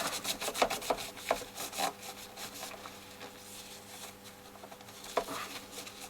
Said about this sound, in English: Let's give it a bit of a wipe out. Tissue, and I'm using isopropyl alcohol